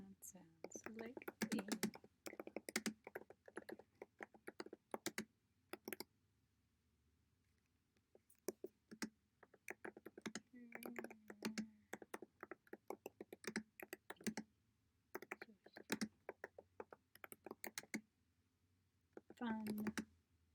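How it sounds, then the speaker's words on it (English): Keys clatter on a computer keyboard in uneven bursts of quick clicks with short pauses between, close but fairly quiet, while someone speaks softly at times. "You can hear me type away"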